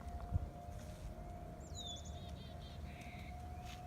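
Distant tornado warning siren during a test drill: a faint, steady tone holding through the whole stretch, with birds chirping and tweeting nearby over low background rumble.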